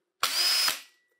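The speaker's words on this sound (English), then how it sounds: "the drill works." A cordless power drill runs in one loud burst of about half a second, with a steady high whine, then spins down and stops.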